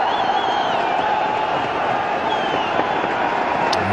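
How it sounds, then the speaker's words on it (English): Large crowd at a Pakistan Super League T20 cricket match roaring continuously in the stadium, a loud, dense, sustained wall of cheering with occasional whistles and shouts rising above it. "listen to the crowd because Boom Boom's on strike"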